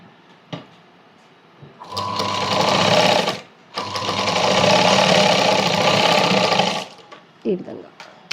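A sewing machine stitches a cross-cut blouse in two loud, close runs of rapid needle chatter, the second run longer, with a short break between them. Light handling clicks and a soft voice are heard before and after.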